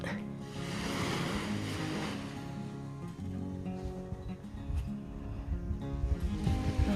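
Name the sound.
sea waves in front of the accommodation, Ko Lanta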